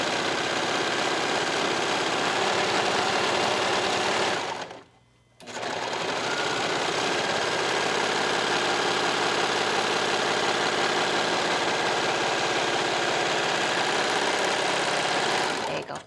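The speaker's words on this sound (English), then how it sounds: "Run it through the serger." A serger overlocks the edge of tank-top fabric with a steady, loud mechanical whir that runs continuously, stops briefly for about half a second, then resumes at the same pace to the end.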